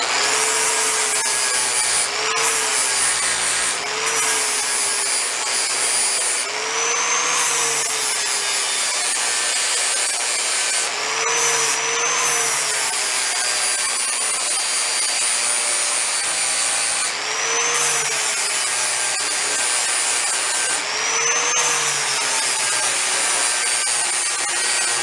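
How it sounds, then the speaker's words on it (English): A flapper disc grinds down welds on a Cushman floor and tailgate, a loud rasping whine rising and falling over repeated passes, close up and alone. "I come back in with a flapper disc, try to knock them down a little bit"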